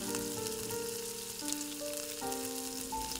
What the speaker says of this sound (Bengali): এরপর ওই তেলের মধ্যে আমি পেঁয়াজ লঙ্কা কুচিগুলো দিয়ে দিলাম।